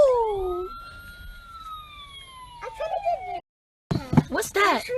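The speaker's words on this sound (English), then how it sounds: "That's your fire truck" A fire truck siren wails in long sweeping tones, steady and moderately loud, before the sound cuts out briefly and people begin talking nearby.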